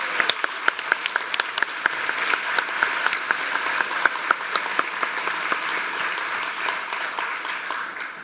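An audience claps for a bassist, a full round of applause with crisp individual claps standing out from a steady wash, lively and close throughout the whole stretch.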